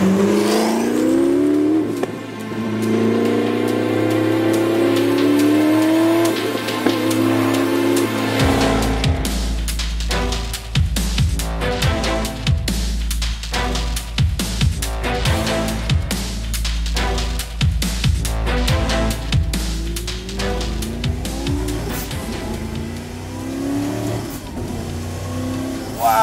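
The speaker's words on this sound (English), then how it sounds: "You get this like a wind-up sound as soon as you get on throttle." A twin-turbo German V8 in a widebody Audi R8 revs on throttle with a rising turbo wind-up, then roars loud and close with sharp repeated pops and bursts. Tires squeal at points, and a voice is briefly heard.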